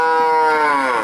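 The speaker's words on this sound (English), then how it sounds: "and they moo just like other cows." Ankole cattle at a safari park give a single long, loud moo that holds steady and then slowly falls in pitch, standing alone and close.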